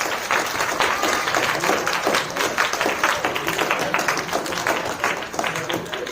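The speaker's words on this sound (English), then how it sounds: "Okay, one more time clap." Students in a lecture room clap together at the end of the final semester lecture, a dense, steady patter of many hands lasting several seconds with no pause.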